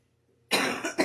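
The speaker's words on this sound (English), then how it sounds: "I've still got a little bit of a cough left" A single sharp cough bursts out after near silence, loud and close, followed by a brief second cough-like burst.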